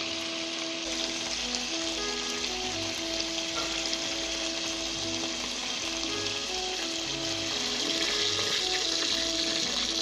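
Meatballs browning on their second side in hot oil, a steady, even sizzle with faint crackle and a low hum beneath, continuous and undisturbed throughout with no voices.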